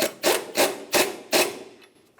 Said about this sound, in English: Now we can bottom out each of our ball joint nuts.